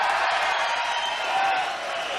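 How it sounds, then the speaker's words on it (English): A boxing arena crowd cheers for Mike Tyson before a 1986 bout against Lorenzo Boyd, a broad, steady roar of voices and applause filling the hall. "Rousing cheer for Mike Tyson"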